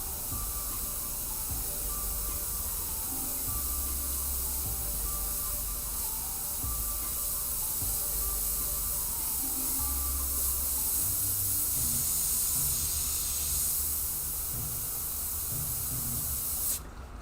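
An airbrush sprays paint onto a Joker-themed panel, a continuous close hiss lasting about seventeen seconds before it cuts off abruptly near the end.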